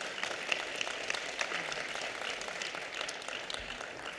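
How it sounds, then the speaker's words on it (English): A public hearing audience at a county board of supervisors meeting claps steadily for a scholarship recipient, a fairly faint and distant patter of many hands that holds even throughout. "Let's give him a round of applause."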